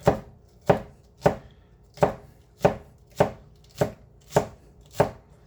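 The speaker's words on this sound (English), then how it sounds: "I'm going to cut, get the stems off there" A Hoshanho knife chopping scallion stems on a cutting board, nine crisp, evenly spaced strikes, close and clear with nothing else audible.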